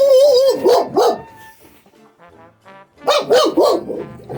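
A dog barks in two bursts of several sharp, tonal barks each, separated by a short quiet gap, fairly close and clear.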